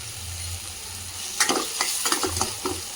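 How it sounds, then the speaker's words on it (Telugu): Green chilies and onion frying lightly in a pan for a home batani chaat, steady sizzle with a stirring spoon scraping and clinking in short bursts toward the end. "3 మిర్చి ఇంకా ఆనియన్ ఇవైతే వేసుకుంటున్నా. ఇంకా 3 ఇంకా ఇలా అయితే లైట్గా ఫ్రై చేసుకోవాలి."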